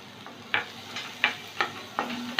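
Chopped onion, garlic and ginger frying for chicken soup, a soft, low sizzle broken by about six sharp spatula taps and scrapes against the pan at a loose, steady rhythm, close by.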